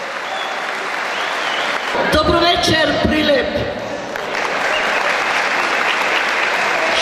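Audience applause at a charity concert in Prilep, a burst of clapping and crowd noise that swells for a couple of seconds, then a man greets the crowd over lingering applause.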